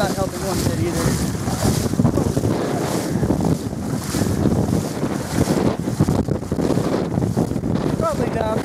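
Strong outdoor wind buffets and roars across the microphone in continuous gusts at a cold spot, loud and close, with waves or water faintly beneath it.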